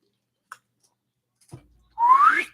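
Two small taps, then a single short rising whistle tone that swoops upward for about half a second, close and clear against near silence.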